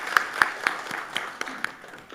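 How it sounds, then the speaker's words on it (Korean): Sparse clapping from a church congregation at an afternoon worship service, honoring children's department teachers: a handful of distinct, fairly loud claps at an uneven beat, with faint murmur between them. "다시 한번 우리 아동 3, 4부 교사들 위해서 박수로 격려하도록 하겠습니다."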